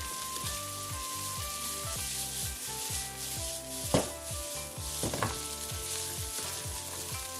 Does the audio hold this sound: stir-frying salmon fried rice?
yes